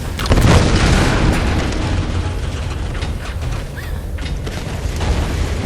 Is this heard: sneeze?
no